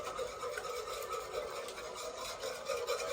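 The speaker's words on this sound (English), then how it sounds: "We're gonna whisk like that." A whisk scrapes rapidly and evenly through fettuccine Alfredo sauce in a pan, a close, continuous rasping swish with no talk.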